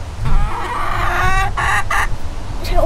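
Backyard chickens clucking close by in a steady run of calls, with a few sharper squawks as wind rumbles low underneath; no one speaks.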